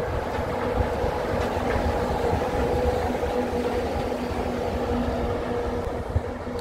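Epcot monorail train arriving at a station, a steady loud rumble of rail wheels with a faint clickety-clack and low hum sustained throughout, no talking.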